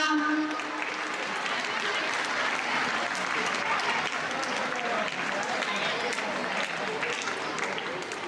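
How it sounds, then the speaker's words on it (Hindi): Loud, sustained crowd applause fills a Lohri celebration at a girls' gurukul as the principal is welcomed, a thick continuous clatter of many hands at even strength. "जोरदार तालियां।"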